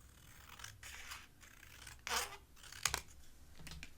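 Scissors snipping paper to matchbook size, a few short separate cuts with soft rustling between them, close and fairly quiet.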